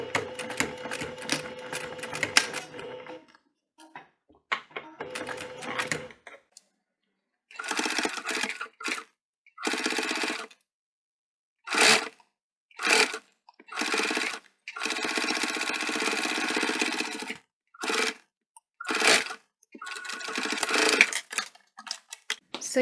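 A sewing machine stitches through all the layers of a Mikan DIY kit bum bag about 7 to 8 mm from the edge, running in repeated rapid bursts of varying length separated by short silent pauses.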